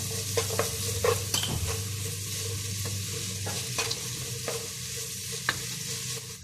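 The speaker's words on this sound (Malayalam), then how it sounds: "അപ്പോൾ ഇതൊന്ന് നന്നായിട്ട് വഴറ്റി കൊടുക്കാം." Onions sautéed with salt in a pan, sizzling steadily while a spoon stirs and scrapes with a few sharp clinks against the metal. The sound is close and continuous, with no talking.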